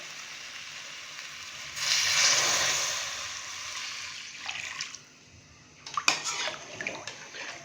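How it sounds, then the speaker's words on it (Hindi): Ginger-garlic water pours into lamb karahi meat in a pot with a steady splashing rush, followed by quieter sloshing and a few clinks near the end, close and without talk. "अभी मैं इसके अंदर 2 गिलास अदरक और लहसुन मिला पानी डालूंगा"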